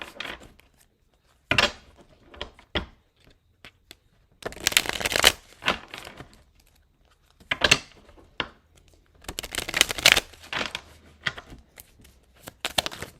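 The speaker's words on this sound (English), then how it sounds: "I want to shuffle properly." Tarot cards being shuffled in several quick riffling bursts, each a crisp papery flutter separated by short pauses, close up with no talking.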